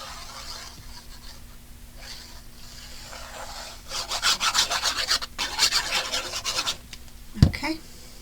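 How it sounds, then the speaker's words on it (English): Adhesive tape peels off a handmade Christmas card in a few scratchy, rasping pulls, with quieter rubbing before and a sharp thump near the end, close up. "Peel off our tape."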